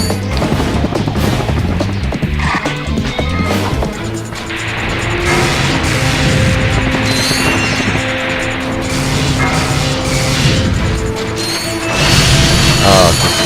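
Bolts being gathered by the bolt grabber in the video game Ratchet & Clank, a dense busy stream of metallic clinks and mechanical rattling over loud game music and effects, continuous throughout.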